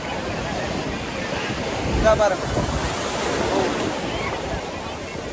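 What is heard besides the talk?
rough sea waves on the shore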